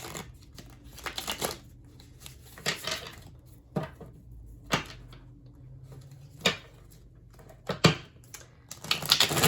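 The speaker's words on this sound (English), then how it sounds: "We're gonna start with tarot. Just shuffle them real quick here." Tarot cards shuffled by hand up close, giving irregular sharp slaps and riffling clicks in short bursts separated by brief pauses, with no talking.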